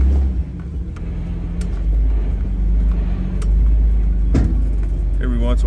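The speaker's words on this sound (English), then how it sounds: "Every once in a while, that's just springs clanking. Every once in a while, you hear the tires rub." An off-road truck climbs a steep rocky trail at Merus Adventure Park, its engine rumbling low and steady throughout, with occasional sharp clanks from the springs and a brief scrape of tire rub near the end.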